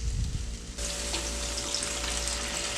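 Stew pot with browning, dried thyme and partially cooked green bananas in a Caribbean vegan oxtail dish, giving a steady close bubbling sizzle that runs continuously, with a brief louder clatter at the start.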